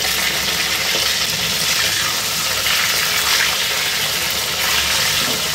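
Pointed gourds (kakrol) fry in hot oil in a pan, giving a loud, continuous bright sizzle and crackle that holds steady throughout, with no talking.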